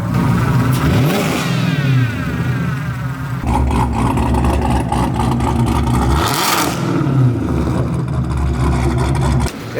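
Loud, sustained revving from a 1000-horsepower Chevrolet Camaro SS, close up, with repeated swells and rising sweeps as the throttle is blipped over a steady rumbling idle.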